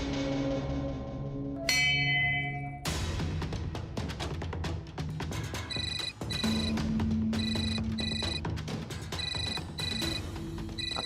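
A phone rings with a repeating electronic ringtone, bright pulsing tones over background music, moderately loud.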